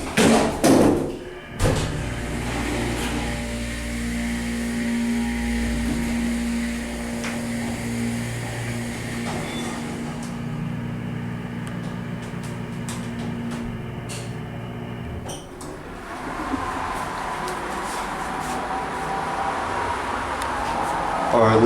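Otis MCE elevator motor at the Marinagate Shopping Center in Webster, Texas, a steady low mechanical hum and drone running throughout, with a few faint thuds and knocks over it.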